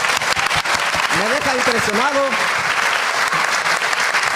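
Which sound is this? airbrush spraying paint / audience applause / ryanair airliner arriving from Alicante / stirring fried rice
audience applause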